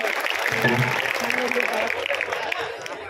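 An audience at an annual school gathering claps continuously, a dense, fairly close wash of applause that holds steady and eases slightly toward the end, with a voice briefly audible underneath.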